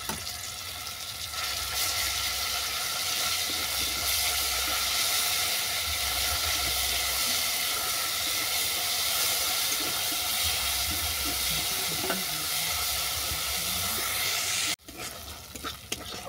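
A ground paste of panch phoron, coriander, cumin and fennel fries in hot oil, giving a loud, steady sizzle with stirring scrapes. It runs unbroken and drops out briefly near the end. The paste is for a red amaranth ghonto with boroli fish head.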